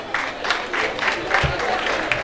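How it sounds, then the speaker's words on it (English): Applause from an audience at a school graduation award ceremony, steady clapping of a crowd mixed with voices and room noise throughout. "Please clap your hands."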